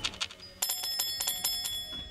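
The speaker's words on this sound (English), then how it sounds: "If the bells are there, I have to just spam them for a little bit." Bells in the game Fallout 76 are struck repeatedly in fast, bright metallic clangs with ringing overtones that sustain between hits, heard on their own with no talk.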